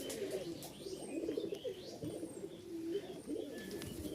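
Giribaz pigeons cooing softly and repeatedly in a quiet indoor loft, low throaty coos overlapping with faint chirps nearby.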